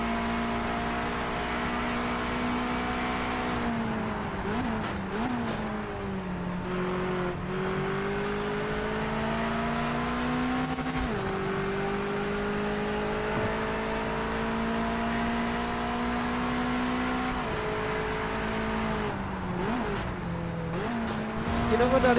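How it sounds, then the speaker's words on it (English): A Mazda MX-5 engine in the Project Motor Racing racing game revs and climbs through gears, its steady drone rising and dipping with shifts, loud and continuous with faint tire noise. "Sound like an MX-5."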